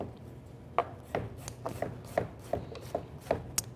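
Red onion for elk chili being chopped with a knife on a board: a series of close, fairly evenly spaced thuds and scrapes, about eight strokes, with no talking.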